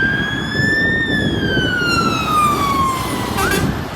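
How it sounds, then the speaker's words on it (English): A loud fire engine siren wails with a slowly falling tone as it passes close by, over steady road rumble. "Fire engine went past."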